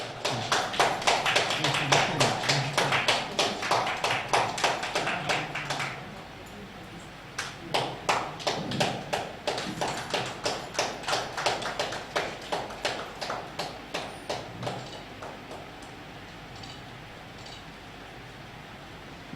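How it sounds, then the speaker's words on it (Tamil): An audience at an astrology event claps in steady, rhythmic applause, loud at first, then thinning into softer, evenly spaced claps that fade out toward the end. "உங்களுடைய உற்சாகமான கைத்தட்டலோட"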